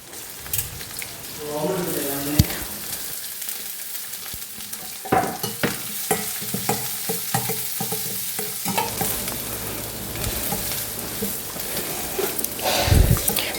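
Chopped onion, green chillies and curry leaves frying in a pan with sizzling and stirring, scraping and clinks of a utensil at intervals.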